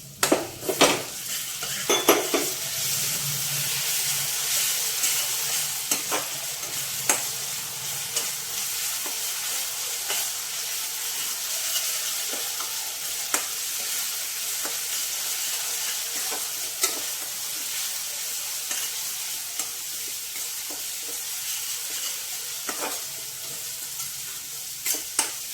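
Ginger and garlic sizzle steadily in a hot pan for a mutton curry, while a spoon stirs and scrapes against the metal with scattered clinks over a continuous frying hiss.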